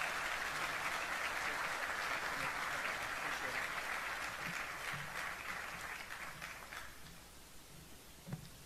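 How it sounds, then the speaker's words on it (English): Crowd applause at a LANPAC conference after an admiral's address, a dense sustained clapping that is loud at first and gradually tapers off, with a faint voice near the end. "Let's give Admiral Paparo a big round of applause."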